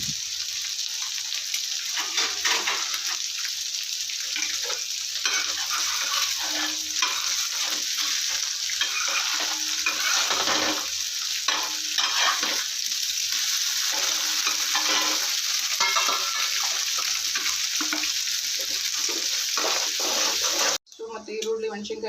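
Green chillies fry in a pan for egg rice, a loud, steady sizzle with scraping stirring strokes throughout, cutting off abruptly near the end.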